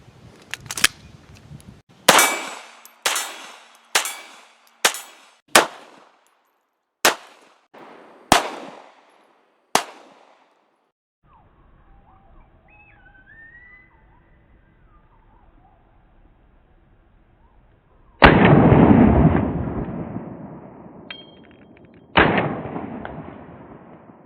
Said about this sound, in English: Let's go out on the range and we're gonna do a little bit of shooting.